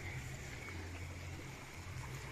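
Liquid fertilizer water poured onto the ground around a young durian tree, about seven months old, giving a steady, continuous trickling splash close by with no talk.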